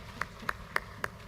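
A few distinct, evenly spaced claps ring out from a health workforce conference audience, sparse and somewhat distant rather than full applause.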